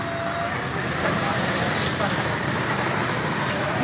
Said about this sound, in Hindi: पेट्रोल इंजन है इसका